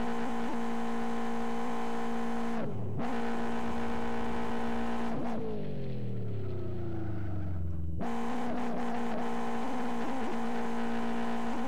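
A car in the Live For Speed racing game launches forward. The engine drones steadily, cuts out briefly, winds down, then surges back loud and close, revving hard.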